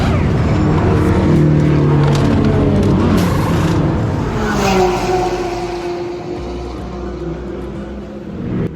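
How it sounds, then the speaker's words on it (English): A race car pit stop during the 12 Hours of Sebring, with a loud continuous engine drone and passing cars, revs shifting in pitch and a brief burst of clatter midway. "pretty quickly after that, our neighbors are doing their first pit stop of the day"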